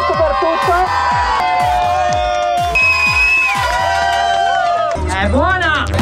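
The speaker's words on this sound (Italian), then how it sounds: "Quindi veramente un applauso, un urlo per lui, che ha dato tutto per tutto." A crowd cheering and whooping with loud, continuous energy at an event where a Swrap Challenge winner is celebrated, with dense overlapping voices and scattered shouts throughout.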